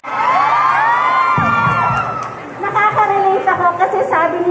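Crowd at a political rally in a shopping mall, Sta. Lucia East Grand Mall, shouting and cheering loudly and continuously, with a sustained roar of voices followed by rhythmic chanting.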